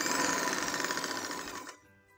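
A sewing machine runs fast and close, stitching stretched elastic onto capri trousers with a rapid rattling whir that stops abruptly near the end.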